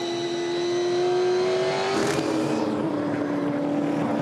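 A 2015 V8 Supercar on throttle at the Sydney Motorsport Park SuperSprint, struggling for grip, gives a steady, loud engine drone with a brief rough burst midway, then settles into a slightly lower continuous tone.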